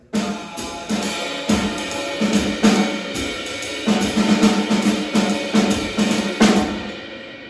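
A jazz drum kit plays a steady rhythmic pattern with crisp snare hits, kick thumps and cymbal wash, loud and close throughout.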